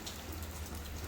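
Rain falls in a steady, dense patter, a constant soft hiss with a low rumble underneath, faint and unbroken with no voices.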